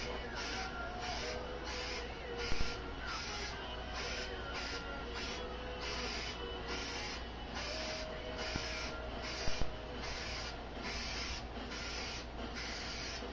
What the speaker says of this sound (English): So we have an industrial adhesive.